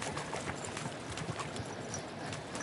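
Horse hooves clip-clop in a video game, a steady run of quick, even hoofbeats at moderate volume with no voices over them.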